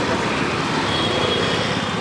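Steady road traffic noise, a continuous broadband wash of passing vehicles, hums evenly throughout at a roadside free-meal service.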